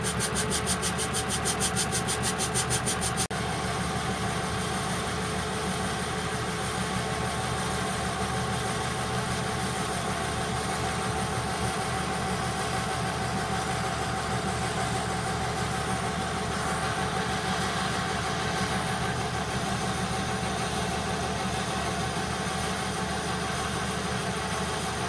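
A metal lathe turning at 380 RPM takes a second cut on steel after the chrome has been removed, producing a steady, continuous machining hum and rub throughout, with a brief rattling noise at the start and no voices.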